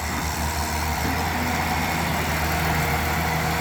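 A Hitachi EX200 excavator's diesel engine runs steadily at moderate revs, loud and close, with a constant rumbling drone and no talk.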